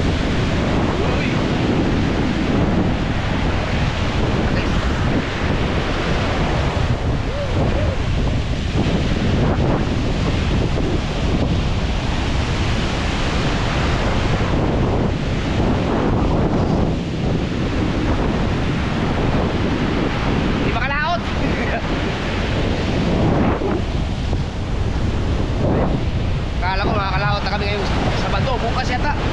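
Large ocean waves pounding the shore in strong wind after a typhoon during the southwest monsoon, a loud continuous roar of surf with heavy wind buffeting the microphone throughout, and a voice speaking briefly.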